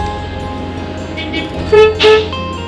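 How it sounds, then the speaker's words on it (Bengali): A car horn gives two short honks at the Baskopa toll plaza on a road trip from Kolkata to Purulia, loud and close over idling traffic noise. "হর্ন মারো, হর্ন মারো।"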